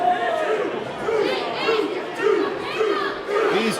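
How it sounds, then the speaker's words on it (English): Restless crowd at a pro wrestling bout murmurs and chatters in waves, with rising swells of voices and scattered shouts filling the arena around the ring. "As this crowd starting to get a bit restless."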